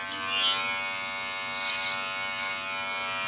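An electric beard trimmer set to a high-speed cycle buzzes steadily and close up while trimming a long beard, its tone wavering slightly as it passes through the hair, with no talking.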